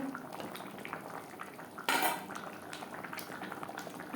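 A spoon stirs chopped coriander leaves through Tangra fish curry in a pan, with soft scraping and clinking under a steady low simmer and one louder metallic scrape midway.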